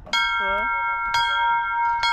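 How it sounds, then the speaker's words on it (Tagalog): Wedding bell rung at Houli Flower Farm in Taichung, Taiwan: three bright metallic strikes about a second apart, each ringing on, with people talking nearby. "Pag tatlo yung kasal, ay pang tatlo yung bell."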